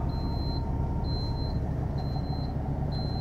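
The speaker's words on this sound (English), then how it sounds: "The beeping up there is because we have the slide outs out." A high electronic beep from a 2011 King Aire motorhome, warning that its slide-outs are extended, repeats about once a second, four times, over a low steady hum of machinery.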